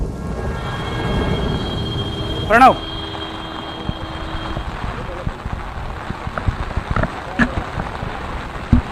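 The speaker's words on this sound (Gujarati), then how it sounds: "ત્યાં વરસાદ ભારે પવન સાથે છે।" Heavy rain driven by strong wind during a storm over waterlogged Ahmedabad, a dense steady hiss with a few sharp cracks and bumps, partly under a voice speaking.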